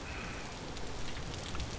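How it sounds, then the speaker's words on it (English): Steady rain falling at night in the Vintage Story wilderness, a soft, continuous patter on the ground, quiet and even throughout with no voices. "Rain is not helping."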